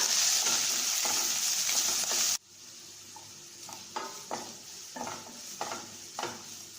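Chopped onion hits hot oil with brinjal and okra in a loud rush of sizzling, which drops suddenly to a gentler fry. Spatula scrapes and stirs follow at intervals, close and with no talk.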